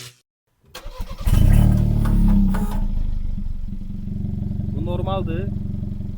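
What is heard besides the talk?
Kia Proceed GT engine revving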